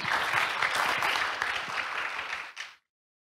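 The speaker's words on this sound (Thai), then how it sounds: "ขอเสียงปรบมือต้อนรับครับ" An audience at a technology press conference applauds to welcome a speaker, a dense burst of many hands clapping close by for about two and a half seconds before it stops abruptly into silence.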